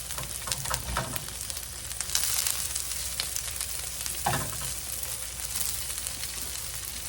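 Green beans sizzle steadily in a hot pan, a close and constant frying hiss broken by a few scraping stirs and brief louder bursts as they are moved around.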